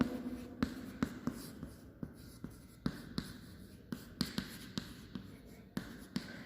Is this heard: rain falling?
no